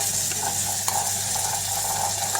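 Ground spices (onion, ginger-garlic paste, dried chili, cumin, white sesame pastes) frying in oil in a pan for a Bengali fish broth, a steady close sizzle with faint stirring scrapes throughout, no voices.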